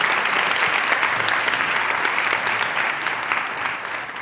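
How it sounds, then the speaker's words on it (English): Conference audience at the National Underground Railroad Freedom Center applauds Dr. Wendy Ellis after her presentation, a dense, sustained burst of clapping from a large crowd that holds steady and tapers slightly toward the end. "please give Dr. Wendy Ellis another big round of applause"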